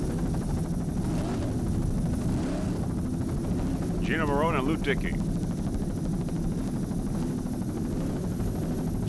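Helicopter rotor drone from a filming aircraft over an offshore powerboat race off Chicks Beach, Cape Cod, with steady boat engine roar throughout and a commentator talking over it.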